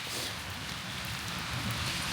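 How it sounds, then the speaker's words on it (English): Steady rain falling outdoors along a walking trail in the Yorkshire Wolds, a continuous soft hiss of drops with no breaks and no voices. "It's raining, as you can see."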